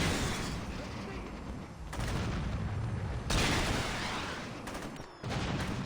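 Explosive blasts and rumbling booms from rocket launcher fire in the video game Saints Row 2, loud and sustained with several bursts in quick succession.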